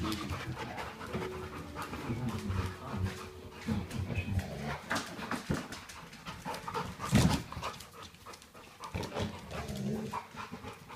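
Two dogs playing with each other pant heavily and growl in low rumbles, with occasional whimpers and scuffling, fairly close and continuous throughout.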